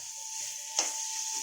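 Spice masala frying in oil in a pan, a steady soft sizzle with light stirring scrapes and one brief louder stir around the middle, no talking.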